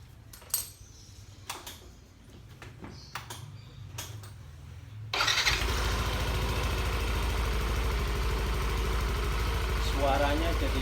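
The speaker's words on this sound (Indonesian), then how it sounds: "Suaranya jadi kayak knalpot standar." A motorcycle with a racing exhaust packed with fiber to muffle it starts idling halfway through, a steady subdued engine hum following a few clicks and taps, with voices talking over it.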